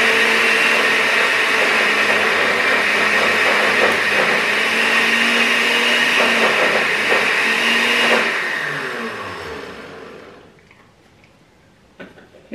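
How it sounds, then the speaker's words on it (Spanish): A kitchen blender whirs loudly and steadily while it blends homemade potato mayonnaise. After about eight seconds the motor winds down and fades to near silence, and a few small clicks follow. "Vamos a licuar."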